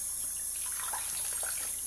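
Warm tap water runs steadily into a sink for cleaning a shaving brush, a soft continuous splash and hiss at moderate level throughout, with no voices.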